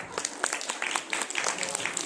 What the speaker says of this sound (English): So please give her also a huge round of applause.